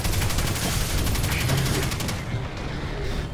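Sustained automatic gunfire in the Destiny 2 video game, a loud, dense stream of rapid shots for about two seconds, then slightly lighter firing continuing to the end, with no voices.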